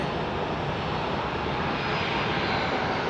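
Airliner jet engines roar at Phoenix Sky Harbor airport, a steady, loud, broadband rumble that holds unbroken and fairly close throughout.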